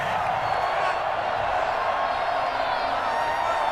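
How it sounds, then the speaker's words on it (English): Simulated stadium crowd in Madden NFL 21 reacting to a penalty flag during a Washington Football Team versus Arizona Cardinals game, a steady, dense roar of many voices that holds at the same level throughout without breaks. "this crowd does not like that call"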